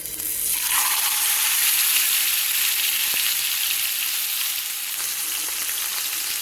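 Fish fries in hot oil on a tawa, giving a loud, continuous sizzle and crackle that swells at the start and holds steady, with no talking.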